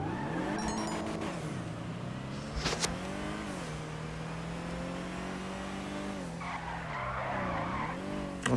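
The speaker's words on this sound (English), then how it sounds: "I tried to use the handbrake here" An Annis Minimus in GTA Online revs its engine while the handbrake throws it into a skid, tires squealing over a steady droning motor tone that rises and dips.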